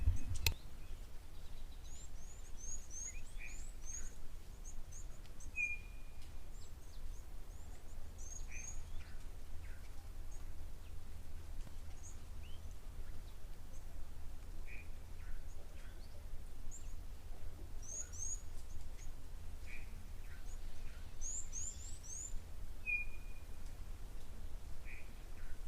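Birds call at a waterhole in scattered, faint high chirps and short whistles spread across a steady outdoor background hum, with no one talking.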